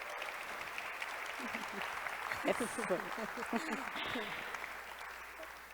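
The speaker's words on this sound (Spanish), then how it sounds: "un aplauso" Audience applause at a food and science talk in Mérida, a soft, distant patter of clapping heard under a voice, with people speaking over it throughout.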